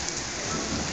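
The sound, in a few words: heavy rain in the street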